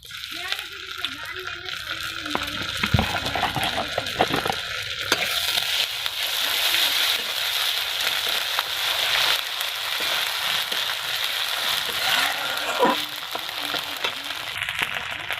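Ginger garlic paste fries in hot oil for a fish curry, a loud, continuous close sizzle with a spatula scraping and stirring against the pan, and a voice speaking briefly early on.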